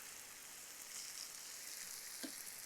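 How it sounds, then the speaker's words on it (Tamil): Onions being tossed and sautéed in a pan, a faint, steady sizzle with a light crackling hiss and one short clink near the end, no talk. "வெங்காயத்தை குக் பண்ண அவசரம்லாம் இல்லை, சும்மா பேனில் அப்படியே டாஸ் பண்ணுறேன்"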